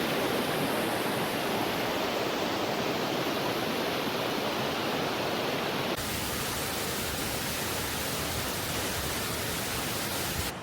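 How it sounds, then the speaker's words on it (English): A huge raging waterfall, about 20 meters tall, roars as a dense, constant broadband rush from nearby, loud and unbroken throughout with no voices. "I'm getting away from this monster of a waterfall because it's spraying all over the place."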